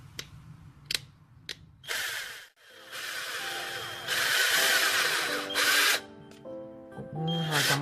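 An Aotuo cordless hammer drill whirs in a series of loud bursts, starting and stopping between short clicks and gaps, with a higher steady run near the end.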